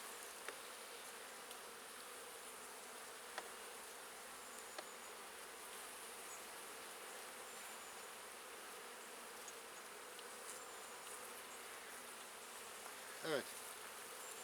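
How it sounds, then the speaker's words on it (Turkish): Honeybees buzz faintly and steadily during an outdoor beehive inspection, a quiet constant hum with one brief louder pass of a bee close by near the end. "ana arımız burada"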